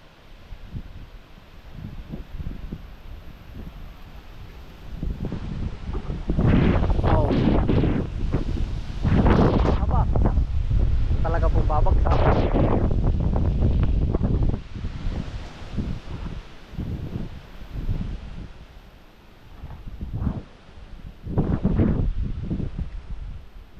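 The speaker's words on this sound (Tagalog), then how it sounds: "pagkalakas ng hangin" Strong gusts of wind buffet the microphone in loud, roaring surges, easing and returning, with leaves rustling between the blasts.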